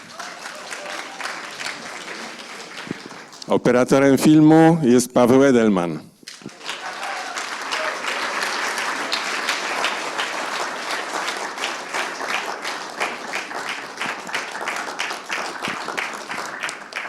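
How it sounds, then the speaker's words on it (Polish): A premiere crowd for the film "The Palace" claps steadily as the filmmakers walk onto the stage, a brief spoken introduction over a microphone cutting in before sustained, even applause resumes and runs on for a long stretch. "Teraz brawa, jak wchodzą na scenę."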